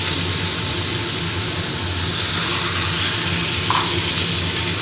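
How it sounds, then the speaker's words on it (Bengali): Vegetable curry frying in a pan as water is poured in, a steady loud sizzle and hiss throughout with faint bubbling, no voices. "এবার আমি পরিমাণ মতন জল দিয়ে দিই"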